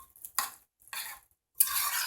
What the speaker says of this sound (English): give it a nice good stir.